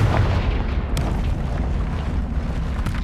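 Confringo fire spell in the Hogwarts Legacy video game bursting into a loud, sustained explosive boom with a rumbling low roar that fills the whole moment, no voices over it.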